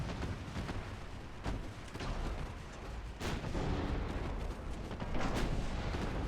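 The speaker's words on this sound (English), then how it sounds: "that is the advantage of the 9-inch guns" Naval 9-inch guns firing in the warship game Ultimate Admiral Dreadnoughts, a series of loud booming blasts that come one after another and overlap with rumbling battle noise.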